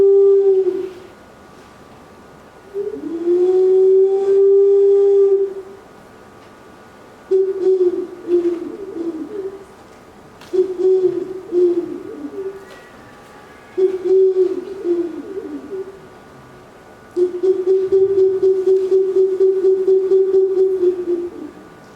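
An ancient Oaxacan instrument with a hollow, owl-like timbre sounds five sustained mid-pitched notes and short phrases, each held for a second or more with steady harmonics, separated by brief quiet gaps and played alone without any talk.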